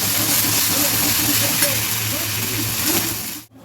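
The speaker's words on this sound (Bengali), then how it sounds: "মশলাটা দিয়ে এবার ভালো করে আবার নেড়ে নেবে।" A ginger, garlic, green chili, fresh turmeric and pepper paste is stirred in a hot pan, giving a steady close sizzle with soft scraping throughout, then cutting off abruptly at the end.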